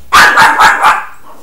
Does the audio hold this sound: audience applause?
no